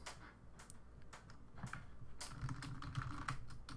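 Quiet, close computer keyboard typing as a folder name is entered, irregular bursts of soft clicking keystrokes with short pauses between them.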